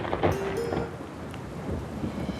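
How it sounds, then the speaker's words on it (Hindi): Rain pours steadily in a forest while low thunder rumbles beneath it, a loud and continuous storm with no voices. "जंगल में बारिश होने लगती है"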